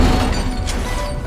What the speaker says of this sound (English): a big truck suddenly crashed into him